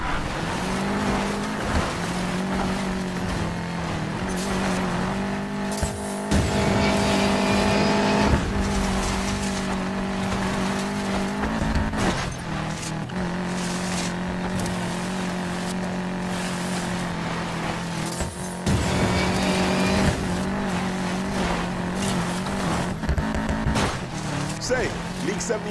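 Steady engine roar of a car driving in the racing game Need for Speed Payback, loud and continuous with brief gear-shift dips, while voices talk over it.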